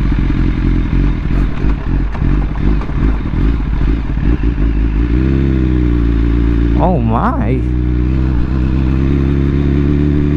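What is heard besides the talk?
motorcycle exhaust revving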